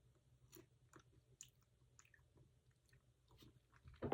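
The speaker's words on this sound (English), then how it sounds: "I'm just fucking chewing on the strawberry" Strawberry being chewed close to the mic, soft wet bites and squishy mouth sounds spaced irregularly, ending in a louder rustle.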